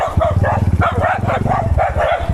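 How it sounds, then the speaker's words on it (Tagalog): Dogs chasing near a rice field barking close and loud, with a run of rapid overlapping barks and yips filling the whole short stretch. "Habol yung mga aso."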